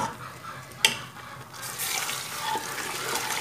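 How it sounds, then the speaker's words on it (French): Hot water is poured onto cooked fava beans in a pot for a traditional Kabyle Algerian dish, a brief clink followed by a rising, steady close splash and trickle. "Donc, il faudra mettre de l'eau chaude."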